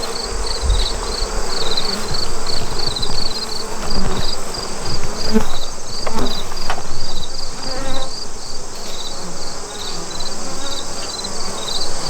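Honey bees buzz steadily around open nuc frames during a hive inspection, a dense, continuous drone close by that holds for the whole stretch without pause.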